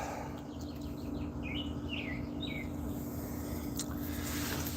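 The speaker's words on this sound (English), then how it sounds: "the birds sound rather happy" Small birds chirp faintly in a backyard, a few quick high tweets in a short burst over a constant low background hum and hiss.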